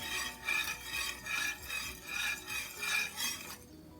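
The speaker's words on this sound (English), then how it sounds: "Give that a quick stir." Uncooked rice, water and kosher salt stirred in a cooking pot, a spoon rasping against the pot in about seven steady rhythmic strokes, close and clear, then stopping near the end.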